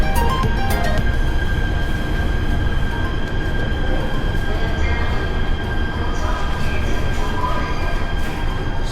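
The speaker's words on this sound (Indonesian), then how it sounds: "Sambil nunggu kereta" A train rumbles steadily at a station during an evening wait, with a constant low roar and a faint high whine from the carriages, and no clear voices on top.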